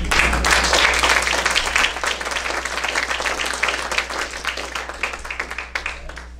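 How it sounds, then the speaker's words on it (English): An audience at a river coalition meeting breaks into applause, strong at first and gradually thinning into scattered claps toward the end, with a low hum underneath. "So I applaud you."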